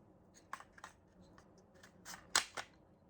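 A speed loader clicks faintly and close as ammunition is dropped in, giving a few small scattered clicks and one sharper louder snap near the end over a quiet background.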